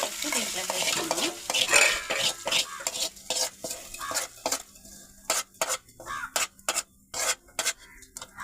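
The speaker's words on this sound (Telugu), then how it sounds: "ఈ తిరగమాత వచ్చి దీంట్లో వేసుకుందాం" A hot tempering is poured into a raw prawn and gongura leaf curry, sizzling loudly at first, then a spoon stirs and clinks repeatedly against the pan in quick, irregular strokes.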